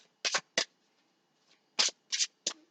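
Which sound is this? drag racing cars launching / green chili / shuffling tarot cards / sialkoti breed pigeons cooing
shuffling tarot cards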